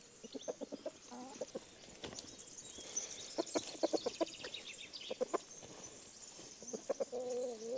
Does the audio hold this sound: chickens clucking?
yes